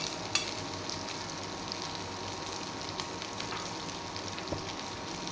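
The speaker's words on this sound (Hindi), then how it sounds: "जीरे में जो है अभी क्रैकलिंग साउंड आने लगी है, तो अब इसी लेवल पर जो है मैं इसमें अदरक और लहसुन भी डाल दूँगी" Cumin seeds, ginger and garlic fry in hot oil for a mince-stuffed capsicum dish, making a steady sizzle with sparse sharp crackles and pops.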